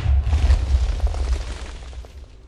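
Bomb explodes in the Minecraft Megamod (Megaman mod, version 1.7.10) as a deep, rumbling boom that rolls on for a couple of seconds before tapering off, with no talking.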